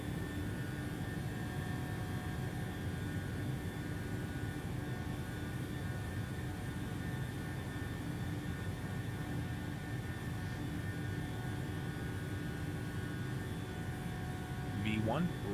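Simulated Boeing 737-800 jet engines roar steadily at takeoff thrust during the takeoff roll in a flight simulator, with a constant broad engine rumble and whine throughout.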